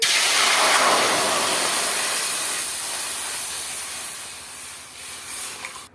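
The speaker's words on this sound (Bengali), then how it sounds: "এবার কড়াইতে দিয়ে দেব জল" Water poured into a hot wok just emptied of cooked meat bursts into a loud, close steam hiss that slowly fades and flutters toward the end.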